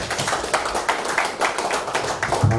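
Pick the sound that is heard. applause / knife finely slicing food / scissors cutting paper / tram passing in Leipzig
applause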